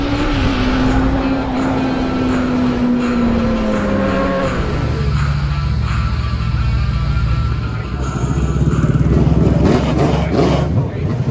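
A turbocharged street-tire drag motorcycle roars loudly and close by, its engine tone sliding downward before breaking into a rough, rapidly pulsing rumble, then rising again with harsh mechanical crackle, continuous throughout.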